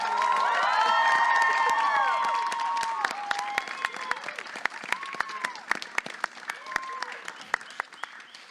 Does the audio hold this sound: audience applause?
yes